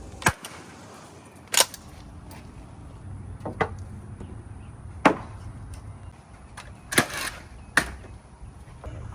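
A nail gun firing into wood framing at a home build, about seven sharp separate snapping shots spaced irregularly, fairly close and loud over a quiet low hum.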